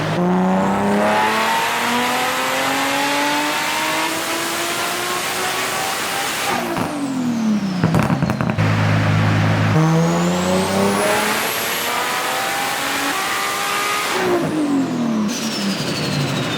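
A stock-motor Toyota Supra making 900 wheel horsepower screams through two long full-throttle pulls on a Speedlab dyno, with a rising whine and a drop to a lower rumble between pulls, loud and close.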